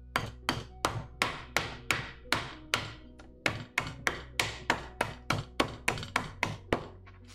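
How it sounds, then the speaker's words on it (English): A wrench strikes ice in a bag about twenty times in a quick, even rhythm of sharp, close thunks, with a short pause midway and no talking. "how do you crack ice? Well, this is how you do it. With a wrench."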